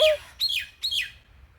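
A myna gives three sharp, bright chirps, evenly spaced and close by, against a quiet background.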